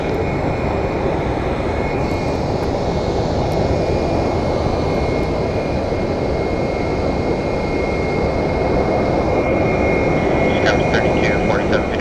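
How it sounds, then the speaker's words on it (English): A 17-year-old Southwest Airlines Boeing 737-700 hums steadily at a Phoenix Sky Harbor gate, its engines giving a constant rumble with a thin high whine on top, while talk runs over it throughout. "that plane that pushed out here in front of us is Southwest Airlines 1298 going to Puerto Vallarta. Boeing 737-700"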